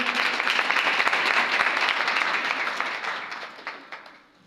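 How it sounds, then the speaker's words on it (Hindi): A church congregation claps loudly and continuously in praise, dense applause that holds steady and then thins out and fades toward the end. "ताली बजाएंगे।"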